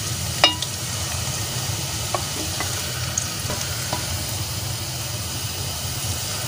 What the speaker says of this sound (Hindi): चमचा मुसलसल चलाते रहिएगा